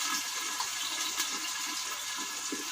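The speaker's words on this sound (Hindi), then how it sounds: "अब हम इसमें पानी डालेंगे।" Water poured into a cooking pot during home recipe preparation, a steady close-up gushing stream that runs without pause through the whole moment, with no talk over it.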